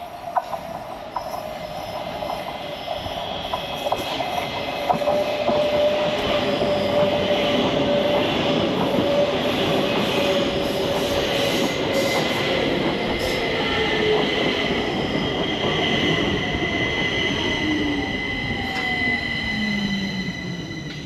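A northbound metro train rumbles into Blackeberg station steadily, growing louder as it arrives, with a long falling squeal of wheels and brakes.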